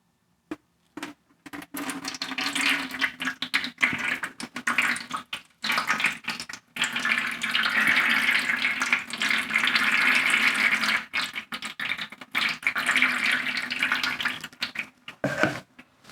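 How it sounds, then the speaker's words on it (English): Ceramic glaze poured over a pot, making a continuous splashing, running-liquid sound in several pours separated by short pauses, close and moderately loud with no speech. "and we'll pour the glaze on."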